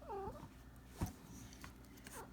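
A house cat gives a short, wavering meow up close, followed by a faint thump and a quieter second cry, heard indoors over a low background hum.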